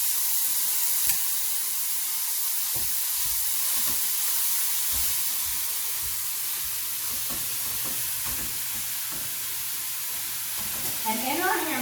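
Hamburger meat fries in olive oil in a pan while being broken up, giving a steady, bright sizzle with occasional scraping and stirring knocks, continuous from start to finish.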